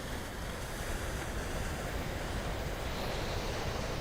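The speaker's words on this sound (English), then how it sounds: "Crashing of the waves against the breakwater." Ocean waves crash against a rocky breakwater at Nobby's in a continuous loud roar of surf, with wind buffeting the microphone.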